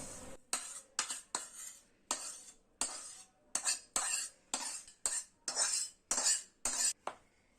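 Roasted semolina being stirred into whipped ghee, sugar and cashews for rava ladoo, a spoon scraping the bowl in about a dozen crisp, rhythmic strokes, close and loud with no voices.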